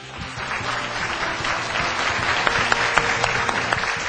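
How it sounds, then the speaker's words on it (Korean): A studio audience gives a warm round of applause at the close of a CEO lecture by the head of Merck Korea, dense, continuous clapping that builds slightly and stays strong throughout. "오늘 머크그룹 한국지사장 유르게 쿠닉 대표께도 큰 박수를 부탁드리겠습니다."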